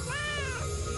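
A cartoon cat meows in one long, drawn-out, wavering cry that lasts about a second. It sits over a steady background of music or noise.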